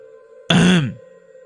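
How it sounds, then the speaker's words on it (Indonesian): A single person clears their throat once, a short, rough burst standing out against a quiet, steady background hum. "Dwi mendengar seperti suara orang yang berdehem"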